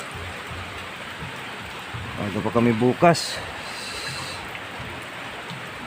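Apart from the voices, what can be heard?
heavy rain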